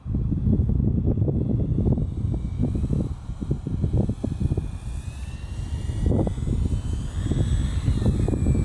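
A Carbon Z Cessna RC model airplane flying in snow and cold wind, its engine drone rising and falling as it passes, with gusty wind buffeting the microphone throughout.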